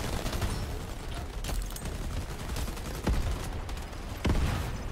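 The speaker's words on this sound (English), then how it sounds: "What is all the explosions?" Rapid bursts of gunfire in the video game Shatterline crackle almost continuously, punctuated by a few heavier thumping blasts, with no voices present.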